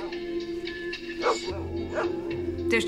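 Dogs yip and whimper close by in short, high-pitched bursts, with a few sharp barks over a steady low hum.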